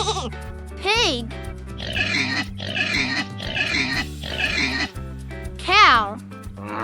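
A pig grunts and oinks in a run of rapid snorting bursts, loud and close, over a soft musical backing with a short voice snippet before and after.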